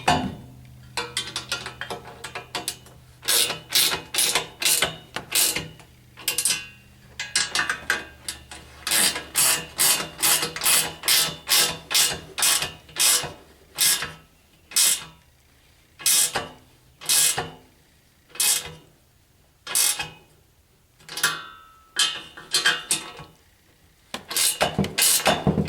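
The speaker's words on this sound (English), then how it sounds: "I love these little gear wrenches. And we'll flip it back over and snug the other two up." Small gear wrench ratcheting bolts snug on a 1985 Chevy K10 during restoration, a close, crisp run of rapid clicking bursts repeated over and over with short pauses between strokes.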